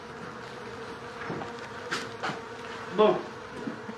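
Honeybees from a highly selected colony buzz steadily while being transferred into a small nucleus hive, with a constant close drone and a few brief louder swells, as someone speaks a word over it.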